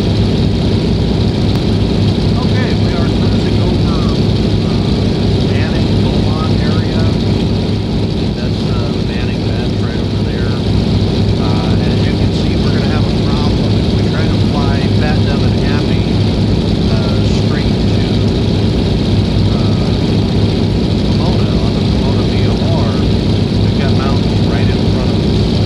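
A de Havilland Beaver propeller aircraft cruising in flight, its loud, steady engine and propeller drone filling the cabin without pause throughout.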